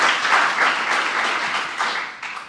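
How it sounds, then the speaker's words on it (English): Audience applause greets the concluding panel at a policy forum on New York City economic mobility, a steady dense wash of clapping from a seated crowd lasting a few seconds. "join me in a quick round of applause"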